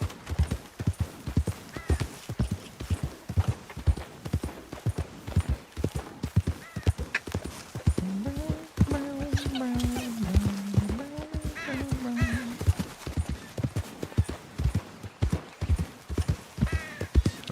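Horses trot with steady clip-clop hoofbeats in the Red Dead Redemption video game, and one horse gives a long neigh midway, with faint talk underneath.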